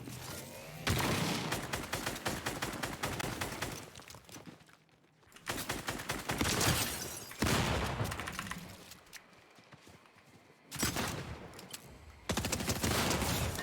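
Rapid bursts of Snowball Launcher fire in Fortnite, loud and close, coming in three long clattering volleys separated by short quieter gaps.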